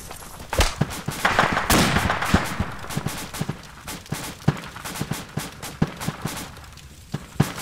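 Rapid gunfire from the ARMA 2 military video game, a dense barrage of sharp shots and bursts repeating throughout, loud and close, with some heavier blasts mixed in and no talking.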